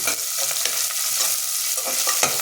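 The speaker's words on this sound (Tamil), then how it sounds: "இதை வதக்கிக்குவோம்" Steady sizzling of onions and green chillies sautéing in hot ghee, with soft scraping and stirring sounds at irregular intervals throughout.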